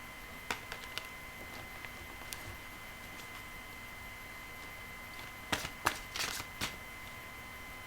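Tarot cards being shuffled, quiet scattered taps and flicks with a brief cluster of louder riffling near the end, no voices.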